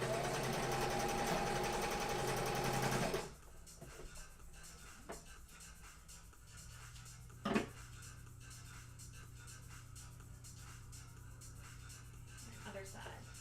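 A sewing machine stitching fabric pieces of an Among Us plushie together runs with a steady, close whirring drone for about three seconds, then stops, leaving quiet room noise with occasional small handling knocks.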